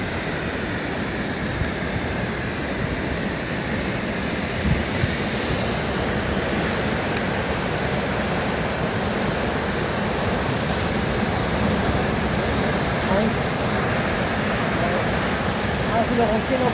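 Sea surf crashing against rocks on a beach at a Spanish fishing village, a steady, loud, continuous roar of breaking water like a waterfall, filling the whole stretch with no pause.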